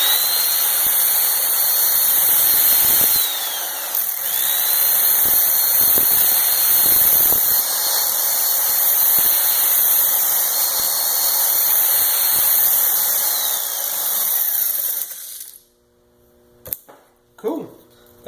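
An angle grinder held in a jig grinds a rough bevel onto a steel knife blade, a loud, sustained high whine with shifting pitch as the wheel bites, running nearly continuously before cutting off near the end.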